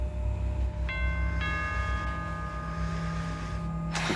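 A bell rings out in a tense domestic scene from a TV movie, two bright ringing strikes sustaining over a steady low hum, followed by a sharp noisy burst at the end.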